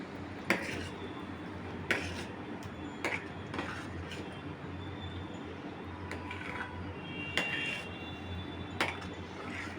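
A spoon stirs salt into mixed dal in a pot, giving several sharp metallic clinks against the pot spaced a second or two apart over a low steady background hum.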